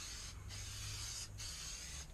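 Spray glue hisses from a can onto pink foam board during an MPCNC vacuum table build, a close, continuous spray broken by a couple of brief pauses.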